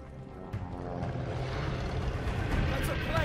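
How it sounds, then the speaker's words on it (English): Airplane passing overhead outdoors, a steady broad engine drone that slowly swells over a few seconds, fairly distant, with voices talking over it. "That's a plane!"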